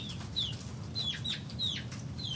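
A backyard chicken clucking in short repeated calls, about five brief cries over soft outdoor background noise, moderately near.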